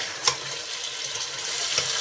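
Small potatoes frying in hot oil with masala for a chicken and potato pulao, a steady close sizzle with a couple of brief stirring scrapes, no voices.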